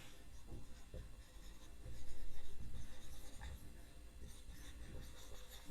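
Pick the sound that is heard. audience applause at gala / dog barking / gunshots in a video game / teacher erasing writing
teacher erasing writing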